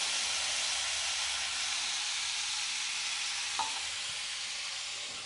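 A spoonful of water sprinkled over gram-flour-stuffed chillies frying in a pan, giving a soft, steady hiss of sizzling steam that stays even and fairly faint, tapering slightly at the end.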